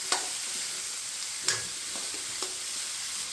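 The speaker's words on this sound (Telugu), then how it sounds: "ఇప్పుడు మనం తీసుకున్న ముక్కలు జుకినీని యాడ్ చేసేద్దాం చూడండి. మనం కలుపుకుందాం" Zucchini pieces stirred in a frying pan: a soft, steady sizzle broken by a few sharp clinks and scrapes of the spoon against the pan.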